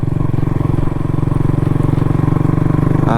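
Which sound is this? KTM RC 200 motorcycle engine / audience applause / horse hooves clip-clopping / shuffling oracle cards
KTM RC 200 motorcycle engine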